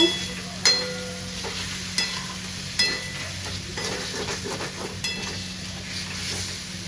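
Chicken pieces fry in a pan for a home-style Bengali chicken kosha, with a constant sizzle and the sharp scrape of a spatula repeating every second or so.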